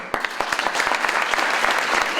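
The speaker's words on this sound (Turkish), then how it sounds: "Öncelikle bir anne babalarımızı güzel bir alkışlayalım" Graduation ceremony crowd at a dentistry faculty applauding the parents, sharp individual claps at first quickly swelling into a loud, sustained round of clapping from many people.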